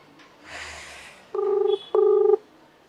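Two short electronic phone-dialing tones beep one after the other, loud and clear, following a faint rustle.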